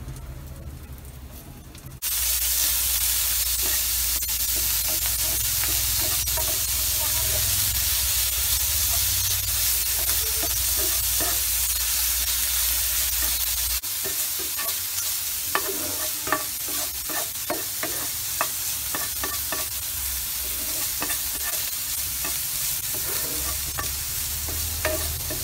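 Meat stirred and frying in a pan with translucent onion and browned garlic for a Filipino string bean and squash sauté, with steady loud sizzling and repeated scraping stir strokes throughout, no talking.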